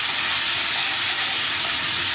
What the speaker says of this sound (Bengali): আমটা আমি দিয়ে দিলাম